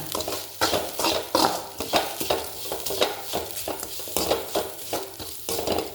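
A spatula scrapes and stirs grated coconut into a spinach stir-fry in a pan, in a steady repeated rhythm of close strokes over a light sizzle.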